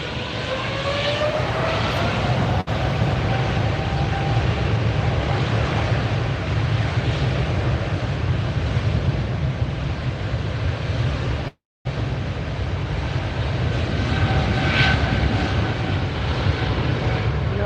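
Jet airliner engines roaring close by at LAX airport, a steady loud broadband rumble with rising whine tones that continues without a break, no talk over it.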